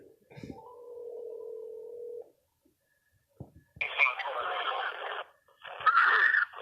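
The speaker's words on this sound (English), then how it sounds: "So we're going to put a phone call into Brian" A studio telephone call is placed: a sustained dial tone, then a pause and clicks, followed by two bursts of ringback or line tones, heard clearly without talk over them.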